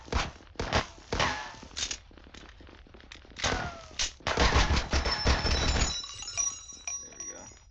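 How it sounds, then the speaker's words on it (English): Bursts of Roblox video game gunfire crack out in short, sharp clusters with metallic clinks, fairly loud and close, interspersed with brief gaps and a faint voice. "Oh, I was shooting at this guy."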